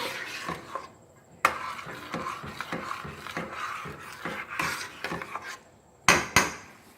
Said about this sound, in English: So you want to stir this really, really good.